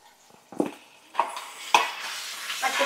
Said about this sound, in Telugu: ఇప్పుడు ఇందులో మనం శుభ్రంగా కడిగి పక్కన పెట్టుకున్నటువంటి మటన్ యాడ్ చేసుకుందాం.